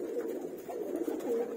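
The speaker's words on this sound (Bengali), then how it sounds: "আমি আমার আরো কিছু জ্যাকোবিন কবুতর আপনাদের দেখাচ্ছি" Soft, steady cooing of a male Jacobin pigeon kept in a loft, a low continuous burbling murmur that runs without a break throughout, fairly quiet and close, with no talk over it.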